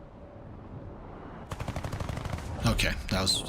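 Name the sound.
gunfire in War Thunder, from a video game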